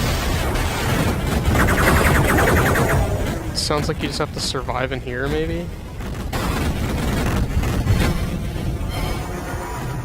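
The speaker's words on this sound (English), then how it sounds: "There's like a room full of explosions up here." Explosions and gunfire roar through a room in the video game Duke Nukem 3D, a loud continuous din of booms and bursts with a person talking over it.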